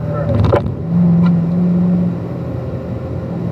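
Car engine accelerating on a race track, heard as a loud close engine drone that rises briefly and then settles into a steady hum; a short voice appears near the start.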